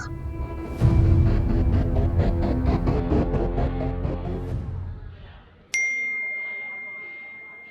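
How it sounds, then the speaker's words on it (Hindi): A phone message notification rings out as a single bright ding with a ringing tail, following a swell of dramatic music that fades away. "नादिया का मैसेज"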